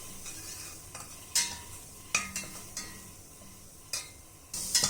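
Chilli and spices sauté in a hot pan with a gentle sizzle, while a spoon scrapes and stirs in a series of sharp, irregular strokes, quiet and close.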